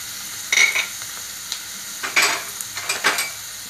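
Cloves and cinnamon sizzle with partly cooked onions in a pan, with a few bursts of stirring and scraping spread across the span, fairly close and with no talk.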